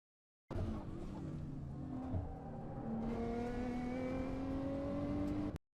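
In the Assetto Corsa racing game, a race car brakes and corners at the Tokachi circuit, engine dropping and then revving back up in long rising tones, with a brief tire noise near the bend.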